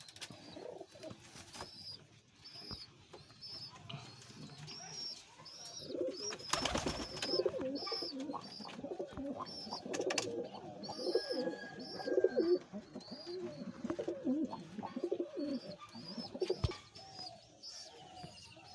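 Kaldoma pigeons kept for sale coo in repeated soft, throaty phrases close by, a steady rolling chorus of several birds with occasional chirps and one sharp knock partway through.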